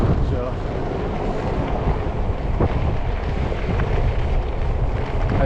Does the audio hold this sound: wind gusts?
yes